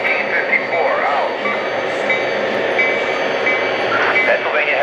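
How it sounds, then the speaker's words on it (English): A long model train running on a club layout rolls along with a continuous rumble and faint wheel squeals, steady and fairly close throughout, with no voices. "Got a long train here, Nick."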